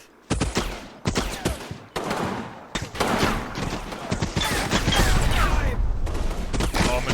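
Rapid machine gun bursts and scattered rifle shots crackle in the Combat Mission war game, a dense fusillade starting in separate bursts and building into nearly continuous firing, close and loud.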